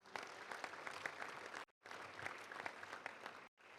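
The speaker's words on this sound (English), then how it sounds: "Let's give a round of applause to Simmons Bank and all of our great sponsors" Audience applause for Simmons Bank and other sponsors at a Little Rock Touchdown Club luncheon, a dense burst of clapping from a roomful of people, cutting out briefly twice and resuming at even strength.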